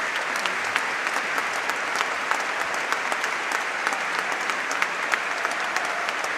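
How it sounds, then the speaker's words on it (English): Football crowd at Charlton applauding in memory of a supporter, steady sustained clapping from a large stadium audience, dense and even throughout with no voices standing out. "Charlton come together to applaud the memory of Headphones Norm."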